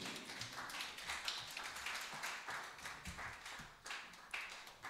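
A church congregation claps in acclamation, a faint, distant run of quick, uneven hand claps blending into soft applause.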